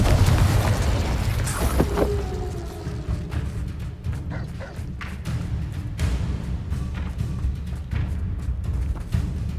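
Spell blasts from Confringo and Incendio in Hogwarts Legacy boom and burst one after another, loud and close, with crackling pops and rumbling impacts spread across several seconds.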